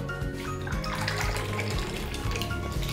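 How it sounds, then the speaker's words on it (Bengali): Water pours steadily into a pressure cooker for vegetarian khichuri, a continuous splashing gush with no pause, close and fairly loud. "তাই এই কাপের মাপে 16 কাপ জল দেব।"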